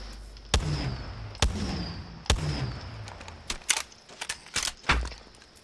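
Triple Take rifle fire in the game Apex Legends: three sharp, loud shots about a second apart, each followed by a ringing tail, then a quicker scatter of smaller impacts and shots.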